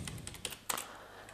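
Quiet, close-up typing on a computer keyboard while entering a cell comment in a spreadsheet, a quick run of light key taps in an uneven rhythm, followed by a couple of louder keystrokes, with no talking.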